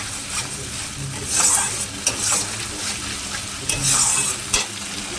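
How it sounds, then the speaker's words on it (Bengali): Spice paste frying and being stirred in a pan for a Bengali rohu fish dish, a loud steady sizzle with rhythmic bursts of spatula scraping, close and without talk. "এবার মশলাটা ভালো করে কষিয়ে নিয়ে"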